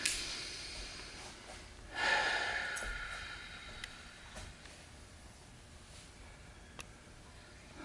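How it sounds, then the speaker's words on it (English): A person receiving Thai yoga manual therapy draws one deep, audible breath close up, a rushing inhale that fades slowly, followed by near silence with faint ticks. "Just take a big breath."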